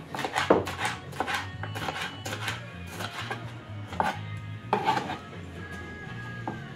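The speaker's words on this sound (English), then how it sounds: "Just gonna slice it." A knife slices through food on a board during stew, roast breadfruit and sweet potato salad preparation, giving a series of irregular, close chopping knocks with a faint background hum.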